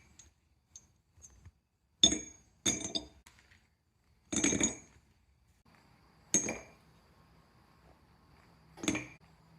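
Scrap brass rings drop into a crucible one at a time, giving about half a dozen sharp, bright metallic clinks spaced a second or two apart against near silence, close and clear.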